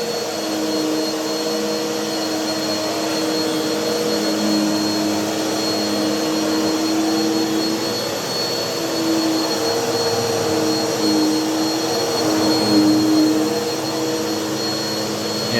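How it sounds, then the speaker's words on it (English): A Bissell upright vacuum cleaner running steadily nearby, a loud continuous motor whine and airy roar with stable tonal hum, holding even throughout with no talk. "if you vacuum on a regular basis, you end up picking up quite a bit of dirt"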